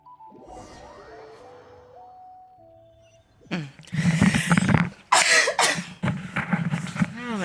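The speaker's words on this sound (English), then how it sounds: "That's a cough and a half." A Genshin Impact game character coughs in a loud, harsh burst of several hacking coughs after a quiet stretch of game music and effects.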